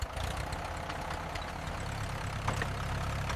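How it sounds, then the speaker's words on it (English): A farm tractor engine runs steadily at close range, a low continuous drone with a rough, knocking idle and no pauses. "The tractor helps move heavier harvest loads back to the farmyard."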